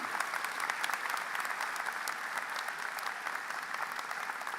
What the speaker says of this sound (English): A warm round of applause for all our MPPs and what they do.